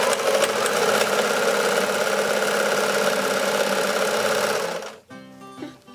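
A sewing machine runs steadily up close while sewing a side seam along a torn fabric edge, then stops near the end, leaving brief softer handling sounds.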